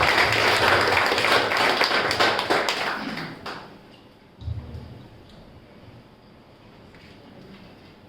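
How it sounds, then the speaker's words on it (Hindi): A crowd claps loudly for a visiting family at a Zen Yoga course closing ceremony, a dense burst of applause that fades out after about three seconds, followed by a few scattered taps and a quiet room. "जोरदार तालियां उनके लिए हो जाएंगी।"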